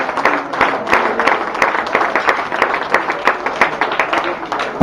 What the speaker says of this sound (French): Il faut que ça les applaudissements, mesdames et messieurs